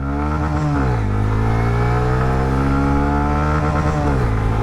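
A 125cc motorcycle engine roars at full throttle from first gear in an acceleration test, its pitch climbing steadily, then dropping briefly at each gear change before rising again.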